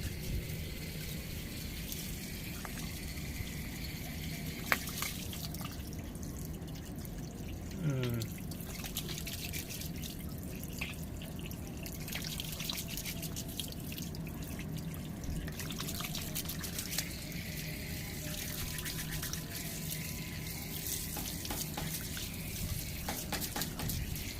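Water runs from a tap through a hose in a steady, continuous rush with faint drips and trickles, and a voice speaks intermittently over it.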